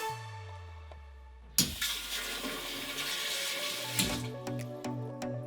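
A toilet in a Ritz Paris hotel suite flushes with a sudden loud rush of water that churns for a few seconds, then gives way to gurgling and the tank refilling with a steady hiss.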